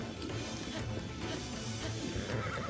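A horse neighs during a jousting run in Breath of the Wild, a loud whinny over dense, continuous game noise with galloping and clashing sounds throughout.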